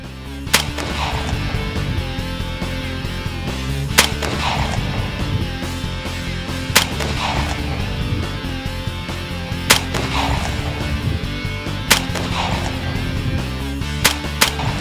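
An AR-15 rifle firing 5.56 rounds outdoors, with about six sharp, loud shots spaced a few seconds apart over a busy background of other noise and mechanical clatter.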